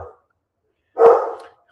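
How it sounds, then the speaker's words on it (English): A dog barks nearby: a faint clipped bark at the start, then one loud, full bark after a second of silence. "You can hear the dog barking."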